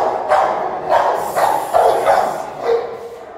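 A dog barks several times in short bursts, loud and close, with brief pauses between barks.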